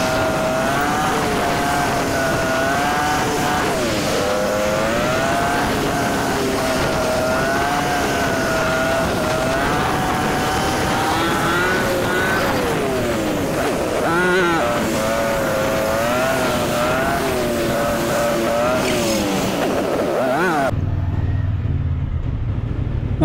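A CFMOTO 450NK motorcycle engine pulls through the gears on a city road, pitch climbing and dropping with each shift, steady and close for about twenty seconds before cutting to quiet, with light wind noise.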